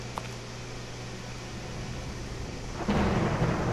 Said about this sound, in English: Storm's brewing.